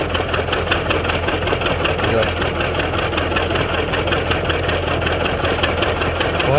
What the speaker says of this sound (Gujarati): જોઈ લ્યો ટ્રેક્ટર આખું ઉલટતું આવે છે.